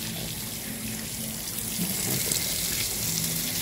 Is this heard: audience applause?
no